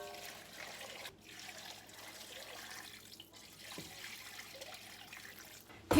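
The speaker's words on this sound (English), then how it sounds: "So now I'm going to pour some water into this." Water pours from a tap into a pot set up for bone broth, a steady close trickle and splash that pauses briefly once or twice before a sharp clatter at the end.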